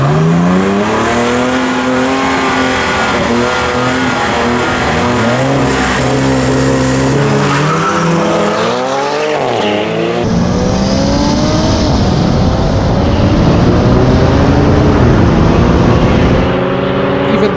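Race cars, including a Toyota and a BMW 135i, roar along a street race course with engines revving through rising and falling gear changes and tires squealing, loud and close throughout with no talk.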